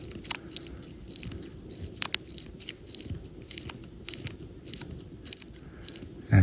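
A mechanical wristwatch is wound by hand, its crown giving a steady run of faint ratcheting clicks up close over a low background rumble.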